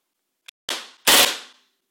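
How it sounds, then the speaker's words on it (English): KWA MP7A1 airsoft gun firing a short full-auto burst outdoors: a brief single pop, then two quick, sharp bursts of rapid cracks, the second louder and longer, fading out after about a second. "I'll do a brief burst on on full auto."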